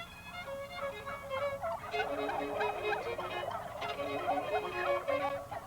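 Turkeys gobble in a piece of interspecies music, a sustained chorus of bubbling, warbling gobbles rising and falling over several seconds at moderate volume.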